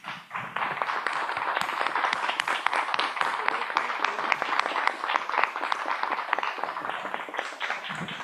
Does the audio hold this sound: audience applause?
yes